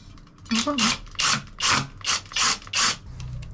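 Screws are driven in to fit a grab rail, giving six or seven short ratcheting, grinding bursts in a steady rhythm, close and fairly loud, with brief pauses between turns.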